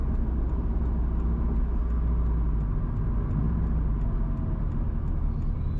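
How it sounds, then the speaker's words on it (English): Steady road noise from a car driving west from Galena towards Oracabessa in St Mary, Jamaica: a constant low engine and tyre rumble with no let-up and no voices. "Currently, we're driving west from Galena towards Aracabessa."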